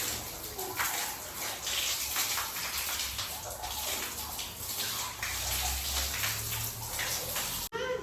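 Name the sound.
tap water while washing face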